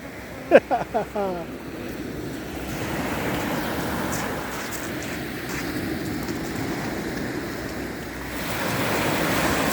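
Rough sea surf breaking on a beach, a steady broad wash of waves with wind noise throughout, preceded near the start by a few brief bright splashes or knocks.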